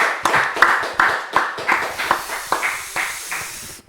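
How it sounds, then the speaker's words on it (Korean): Clapping from a church congregation during an afternoon Sunday service, a series of about ten strong rhythmic claps in unison, evenly spaced and gradually softening toward the end, with no speech. "우리 하나님께 영광의 박수 올려드립니다."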